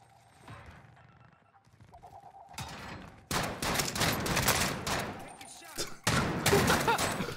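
Desert Eagle pistol shots in a first-person shooter, heavy cracks that come in clustered, loud bursts after a quieter opening, with voices talking alongside.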